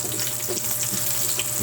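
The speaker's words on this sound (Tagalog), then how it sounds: "Ayan, mag-gigisa muna tayo." Garlic and purple onion sautéing in a pan for pork pakbet, a steady crackling sizzle with light scraping and stirring throughout.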